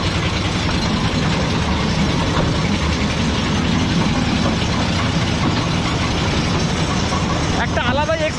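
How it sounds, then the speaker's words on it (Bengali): A toy train pulls out at the Howrah Rail Museum with a loud, steady rumble of engine and carriages, while voices talk underneath the whole time. "আর 30 টাকা টিকিট দিয়ে কিন্তু টয় ট্রেনটা এখন ছাড়ছে।"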